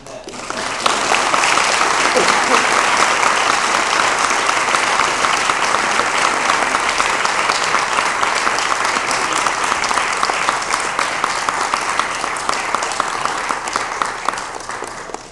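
A church congregation applauds children with loud, sustained clapping that holds steady for about fifteen seconds and thins slightly near the end.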